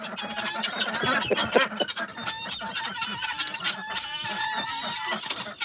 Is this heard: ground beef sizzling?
no